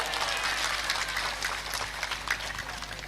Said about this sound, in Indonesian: Tepuk tangan Kalianget Timur.